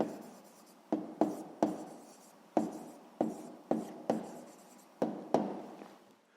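Chalk or pen taps and scratches in a steady run of about a dozen sharp strokes, each fading quickly, as an answer is written on a board in a quiet room.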